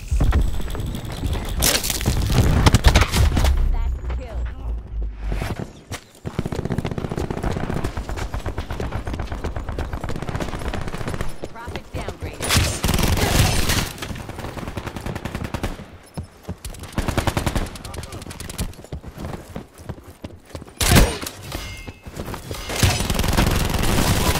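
Loud, dense video game combat fills the scene with rapid bursts of automatic gunfire and heavy booming explosions from cluster grenades. The shooting comes in waves with brief lulls, and no one talks.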